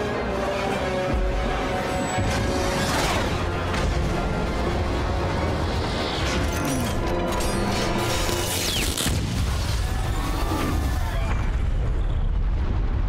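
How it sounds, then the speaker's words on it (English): Firework bursts in the Resident Evil 6 game, a loud, continuous wash of booming blasts and crackling pops over dense game sound, with voices talking throughout. "That's just a firework."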